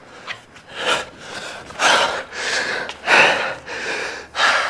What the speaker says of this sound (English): I don't know why I'm breathing so hard